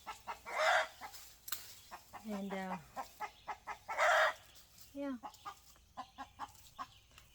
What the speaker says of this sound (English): Out here with the chicken running around. We have 34 chickens.